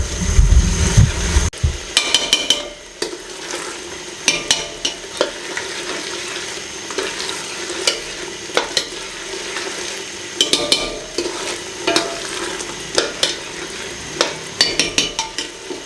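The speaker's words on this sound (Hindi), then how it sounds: "मैं इसकी अच्छे तरीके से भुनाई कर लूँ" Dal masala with tomatoes sautés in oil in a pan, a steady close sizzle broken by repeated sharp scraping and knocking of a spoon against the pan in an irregular rhythm.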